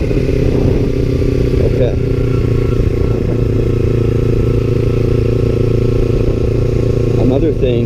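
A motorcycle engine revs and pulls away, loud and close, as the rider gives gas and lets the clutch out. A voice speaks briefly over the engine.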